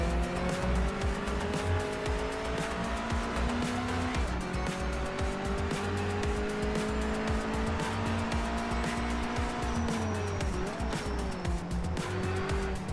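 A race car in Project Motor Racing runs an out lap, its engine droning loud and steady as it shifts through gears, with tires squealing now and then and no talk.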